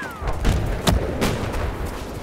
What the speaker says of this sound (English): Appears to be enemy machine gun